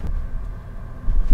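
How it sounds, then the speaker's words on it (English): A 2022 VW ID.4 AWD Pro S electric SUV on 20-inch wheels rolls over a speed bump, producing a quiet low road rumble that ends in a short thump as the suspension takes the bump. "let's test out this speed bump here"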